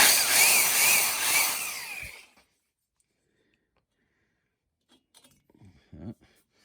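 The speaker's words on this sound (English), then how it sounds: "I'm going to grind that step out of there." A cylinder head valve seat is ground to remove a step, a loud whirring, rasping grind lasting about two seconds that cuts off sharply, followed by silence and a few faint clinks.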